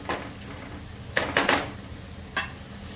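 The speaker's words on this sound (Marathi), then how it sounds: "हळद सुद्धा छान परतून घ्यायची तेलावरती" Turmeric sautéed in hot oil in a pan sizzles softly under a few quick stirring scrapes and clinks of a utensil against the metal, close and without talk.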